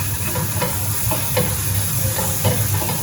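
Spices and chili fry in a pan for a slow-cooked lamb tagine, giving a moderate, steady sizzle and hiss with soft stirring scrapes at intervals and no talking.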